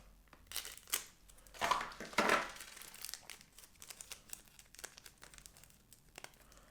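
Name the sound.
opening a card packet inside an unboxing, with a small knife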